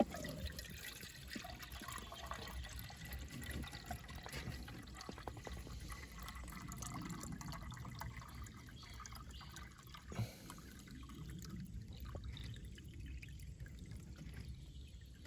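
Spring water from a natural seep collection pipe runs steadily into a one-litre jug, a constant close liquid trickle and splash with a faint rising fill quality and no talk.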